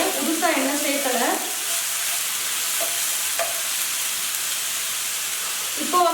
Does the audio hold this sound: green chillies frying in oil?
yes